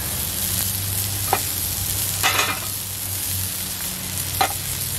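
Burger patties sizzle steadily on a hot grill, a close, continuous frying hiss with a few sharp scrape-like bursts from handling on top, no voices.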